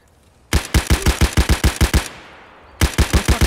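Automatic gunfire in the shooter game Escape From Tarkov: a loud burst of about a dozen rapid shots, a fading echo, then a second shorter burst, close and without talk.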